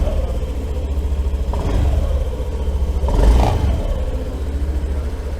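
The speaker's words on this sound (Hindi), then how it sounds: "तो इस तरह का कुछ साउंड मिल जाएगा यहाँ पे एक्टिवा में।" A Honda Activa 110 scooter engine runs close by with a steady low putter, rising briefly in a rev near the middle before settling back to a steady idle, no voices.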